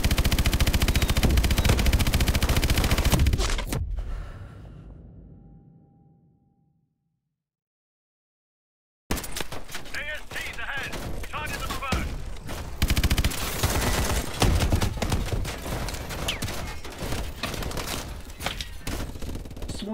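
Swarm missiles fire in a futuristic shooter campaign as a loud, dense volley of rapid blasts that cuts out into brief silence, then resumes as another sustained barrage.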